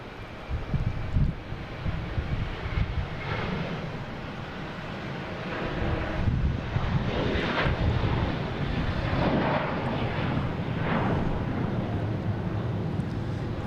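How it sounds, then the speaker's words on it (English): A JetBlue airliner bound for Cancun passes overhead at Boston Logan, a moderate jet rumble that builds and holds steady with some wind buffeting the microphone. "There's JetBlue heading to Cancun"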